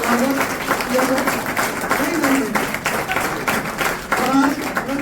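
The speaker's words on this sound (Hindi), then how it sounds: "ताली के बीच स्वागत किया जाए।" At a political welcome event for the Jan Suraaj youth yatra, steady applause from a gathered crowd fills the space. It carries on for several seconds beneath someone talking loudly through it.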